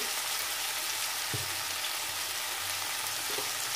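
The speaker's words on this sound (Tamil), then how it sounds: "இதை கொஞ்சம் நல்லா வதக்கிக்கலாம்" Capsicum with turmeric and salt sautéing in a pan: a steady, close hiss of frying that runs throughout, with one or two faint stirring knocks and no voices.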